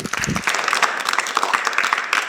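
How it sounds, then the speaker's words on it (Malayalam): A children's audience at a talk claps for a little girl, a dense, lively burst of applause filling the short moment. "ഓക്കെ നല്ലൊരു ക്ലാപ്പ് കൊടുത്തേ മോൾക്ക്"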